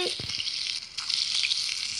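Steady, soft sizzling of steak frying in a pan in the game Toca Kitchen 2, a continuous hiss with faint crackles and an occasional scrape.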